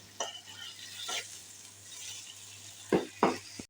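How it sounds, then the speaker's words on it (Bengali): Masala for a prawn bhuna is stirred in a pan with a spoon, sizzling and frying in oil. Several scraping strokes come close and moderately loud over a steady low hum. "পানি দিয়ে নেড়ে চেড়ে মশলাটা যখন তেল বের হবে"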